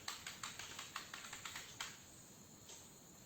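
Quick, light keystrokes on a computer keyboard tap in an irregular burst, then slow to a few scattered clicks, close and quiet.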